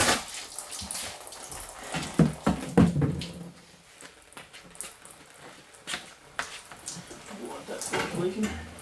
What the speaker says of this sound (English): there goes the rest of the antifreeze